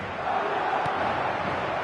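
A steady roar from a football stadium crowd in a soccer video game, a dense, even wash of cheering with no clear individual voices.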